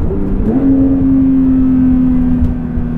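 A 2022 Porsche 911 GT3 engine pulls hard under acceleration, a loud, steady rising drone that holds from inside the car, with no speech.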